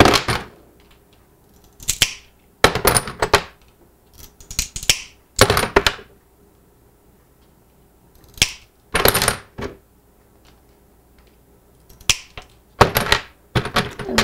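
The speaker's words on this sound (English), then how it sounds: "I'm going to cut as close to that as I can." Scissors cut through craft material in repeated bursts of sharp snips, several quick cuts grouped together with quiet pauses between them, close and clear.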